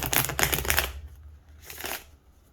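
Tarot cards riffle and slap in a quick shuffle for about a second, then a shorter second riffle follows after a brief pause, close by.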